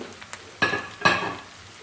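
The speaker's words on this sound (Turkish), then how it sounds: "Şöyle biberlerimizi de biraz soğanlarımızla sarımsaklarımızla biraz kavuralım." Long-sliced peppers sauté with onions and garlic in a pan for an olive-oil pea dish, with a low sizzle broken by two distinct scraping stirs about half a second apart, close and fairly loud.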